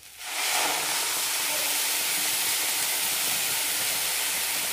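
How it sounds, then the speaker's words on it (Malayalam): Coconut milk is poured into a hot pan of roasted rice, bursting into a loud, sudden hiss that settles into a steady, even sizzle and stays strong to the end. "ആദ്യം തേങ്ങാപ്പാൽ ഒഴിക്കാം."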